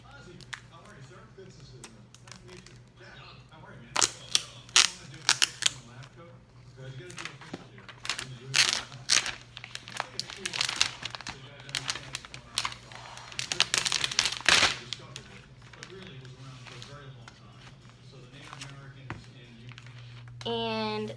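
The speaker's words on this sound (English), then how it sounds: "Oh, and I unwrapped the MacBook." A MacBook Air 13.3-inch being unwrapped: crinkling plastic and soft tapping and rustling of packaging in bursts, close and fairly quiet.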